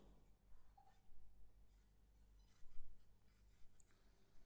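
Urdu letters written on a board, faint scratchy strokes that come in short uneven bursts over a low background hum, quiet and close, with no talking.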